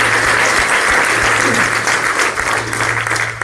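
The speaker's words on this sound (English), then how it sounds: "let's give everyone another warm round of applause." A warm round of applause fills a hall at a community gathering on fathers, loud, continuous dense clapping from a large audience, with a low electrical hum running underneath.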